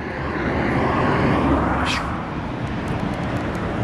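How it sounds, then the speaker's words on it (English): Road traffic passes close by next to a car auction site, a steady loud roar of engines and tyres with one vehicle swelling past mid-way. "traffic literally right by the road, so it's going to be a bit noisy as cars are bolt past"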